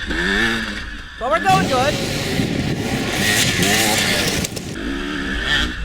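Dirt bike racing through a winter scramble course, a close engine revving up and down in sweeping pitch rises and falls, loud and continuous, with a rider speaking briefly over it.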